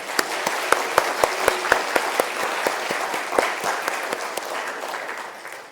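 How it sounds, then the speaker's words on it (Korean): A church congregation claps together at an anniversary worship service, a fairly loud, steady round of applause with a few sharp individual claps standing out, fading slightly toward the end. "하나님께 영광의 박수 함께 올려드리겠습니다"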